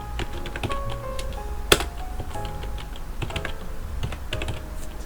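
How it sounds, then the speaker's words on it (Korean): Keys clack on a computer keyboard as Ctrl+T is pressed while working in Illustrator, a quick scatter of light, close taps with one sharper, louder keystroke near the middle, no talk. "컨트롤 T 눌러서"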